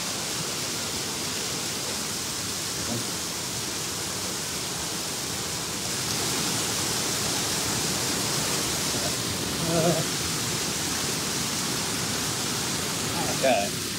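Shallow stream water flows steadily at a lake hiking spot, a broad continuous rush that swells slightly louder midway, with a few faint splashes as someone wades back across.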